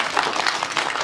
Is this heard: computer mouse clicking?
no